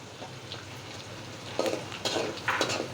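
Whole garam masala, cardamom, cloves and cinnamon dropped into hot mustard oil, a constant sizzle with a few sharper crackles and light clinks near the end.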